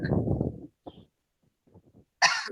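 Several coughs from one person: a low, harsh burst, then a few short quieter coughs, ending in a sudden sharp hissing cough or clearing.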